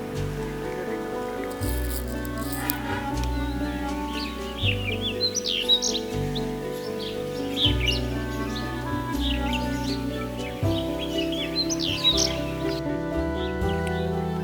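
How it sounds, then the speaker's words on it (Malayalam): Bright chirps and short calls of a bulbul and a pied bushchat repeat over a steady musical background in Kotagiri, several birds calling on and off throughout. "ബുൾബുളും അതുപോലെ തന്നെ മലയാളത്തിൽ ചുറ്റീന്തൽ കിളി എന്നറിയപ്പെടുന്ന പയഡ് ബുഷ്ചാറ്റ്"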